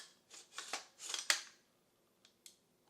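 An AR-15 rifle's charging handle is racked back: a cluster of close, sharp metallic scrapes and clacks in quick succession, then a couple of faint isolated clicks after a pause, with no talking.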